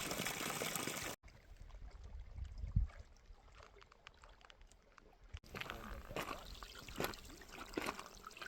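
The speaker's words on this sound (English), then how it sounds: "All that rain recently has brought back to life some of these seasonal streams and springs." Seasonal stream revived by recent rain, trickling and gurgling steadily along a hiking trail, close and continuous with brief louder splashes, a short gap near the start and faint background noise.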